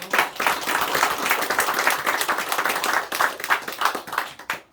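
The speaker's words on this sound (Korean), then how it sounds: "우리 감사 박수 한번 하겠습니다." A church congregation claps in thanks during a Sunday morning service, a dense, steady burst of many hands applauding for several seconds before trailing off.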